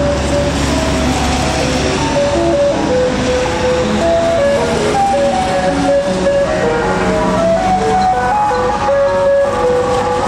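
A loud tinkling melody plays on repeat from a food van's chime, its engine rumbling beneath as it approaches close by.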